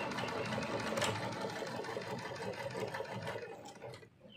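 A Jaguar CS-335 sewing machine stitching zigzag, a steady close mechanical whirr with rapid needle chatter that runs continuously, then cuts off near the end.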